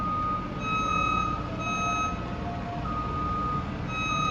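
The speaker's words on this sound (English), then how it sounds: "there's distant sounds of work going on by the cave" Steady high reversing beeps from a construction vehicle repeat at a regular rhythm over a low rumble of distant work near a roller coaster site, faint and far off.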